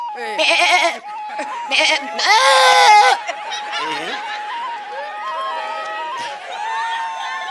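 A voice imitates a female goat bleating, giving several quavering, nasal bleats in short bursts, close and clear, with brief spoken phrases between them and faint crowd laughter.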